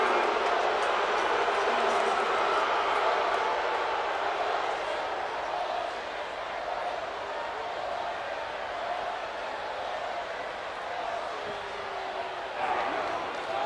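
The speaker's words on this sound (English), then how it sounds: "The crowd booing." Crowd at a North Dakota State versus Sam Houston State college football game booing, a broad steady roar that fills the stadium and holds for the whole stretch, with a slight swell near the end.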